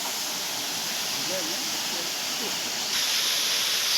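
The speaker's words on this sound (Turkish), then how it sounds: "Şelale buz gibi akıyor." Icy cold waterfall near Çanakkale, a steady broadband rush of flowing water heard up close, with faint voices murmuring beneath the roar.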